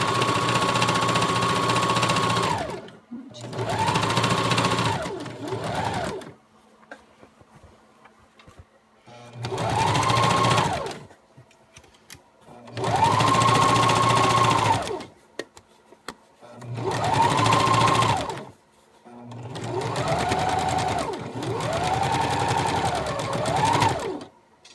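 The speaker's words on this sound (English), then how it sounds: "So we're at our sewing machine, and again we're just going to do a normal stitch all the way down on both sides." Sewing machine running a straight stitch down a dress seam in bursts of several seconds each, loud and close, with short pauses between runs.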